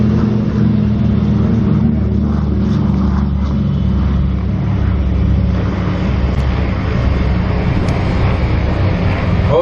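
A de Havilland Mosquito flies over an air show, its loud piston engine drone filling the air in a steady, sustained roar with no talk.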